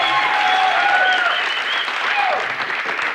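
Audience applause in a podcast studio, loud and dense, steady clapping from a small crowd with a few voices calling out over it.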